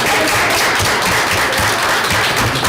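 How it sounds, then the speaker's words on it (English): Audience applause at a school district committee meeting: a steady, dense wash of many hands clapping together, filling the room evenly for a few seconds. "I think we should clap for it."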